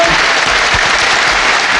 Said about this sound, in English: please, a big round of applause for both these men